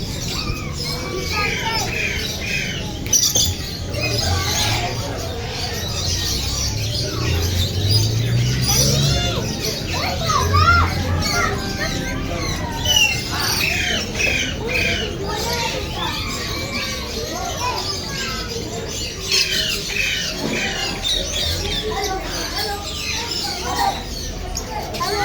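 Many parrots at a Karachi bird market squawk and chatter at once, harsh calls overlapping in a busy, noisy chorus, with some voices talking underneath.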